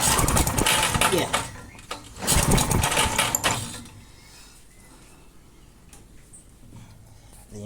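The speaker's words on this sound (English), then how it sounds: "The engine turns over freely" An old push lawn mower engine from a flea market is pulled over by hand in a few loud mechanical bursts of rattling and whirring, then near silence with faint background noise.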